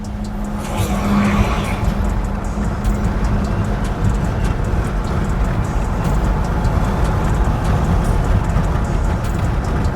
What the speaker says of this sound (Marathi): असं 24 तास ट्रॅफिक बघायला मिळते आपल्याला यार